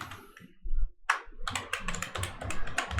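Typing on a computer keyboard while filling in an online registration form, a brief pause and then a quick run of close, crisp key clicks.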